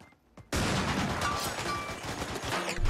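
Rapid rifle gunfire in the game The Showdown Effect, a dense continuous burst of shots that starts abruptly after a brief quiet moment and stays loud throughout.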